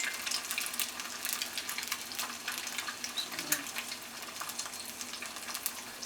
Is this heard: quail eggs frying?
yes